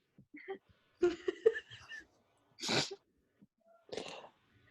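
A single sharp sneeze bursts out amid soft murmured voices at a script table read, followed by a breathy second sound, all fairly close and quiet.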